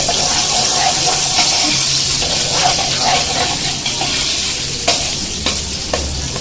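Sliced onions hit hot oil and fry loudly in a pot for chickpea pulao, a dense close sizzle with occasional scrapes and clinks of a spoon stirring through it, and no talking.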